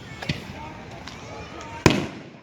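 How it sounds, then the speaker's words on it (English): Fireworks pop at a July 4th celebration near the Venice Beach pier, with a few sharp bangs and cracks over crowd murmur, the loudest one close by after a quieter earlier burst. "Everybody got fireworks."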